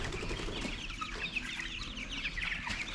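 Chickens clucking and murmuring inside a coop alongside broiler chicks, turkeys and laying hens, a soft busy chatter of overlapping calls close by.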